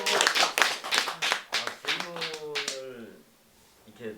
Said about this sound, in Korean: 일단 박수 한번 쳐주시죠